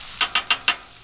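Four short, evenly spaced scraping strokes from a spatula stirring crispy breakfast potatoes frying on a Blackstone 28-inch griddle, each stir a brief bright rasp over a steady low sizzle, close and moderately loud with no talk.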